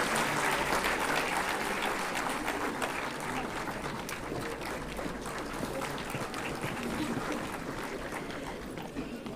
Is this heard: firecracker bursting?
no